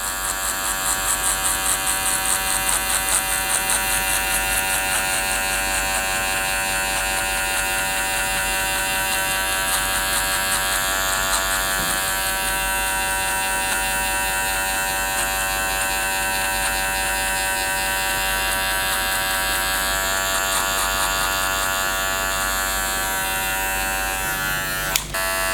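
Electric hair clippers with an open metal blade and a number 1 metal classic guard hum steadily and close by throughout a skin fade haircut, a continuous buzzing drone with no talk.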